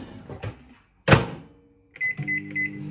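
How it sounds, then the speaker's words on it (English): A microwave oven heating a bowl of chocolate oats mixed with almond milk: a sharp door clunk, then a steady low hum with a thin whine running alone after a pause. "then that goes in the microwave"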